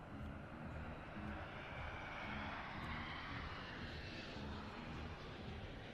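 Aerobatic plane at an airshow in Leszno flying a very slow roll, its engine a steady distant drone with a broad rushing roar that swells gently and holds constant throughout.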